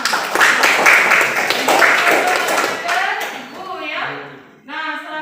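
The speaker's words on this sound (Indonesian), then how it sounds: "tepuk tangan buat Rahmat" A classroom of students claps for Rahmat, a brief burst of applause that fades out as a teacher's voice takes over.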